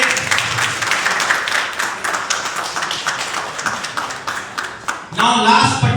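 A crowd at a residents' public forum in a Noida housing sector breaks into loud, sustained clapping that holds steady before a voice cuts in at the end.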